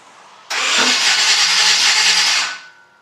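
A 1951 Chevy truck engine being bump-started: a loud, dense roar jumps in suddenly and holds steady for about two seconds, then fades out.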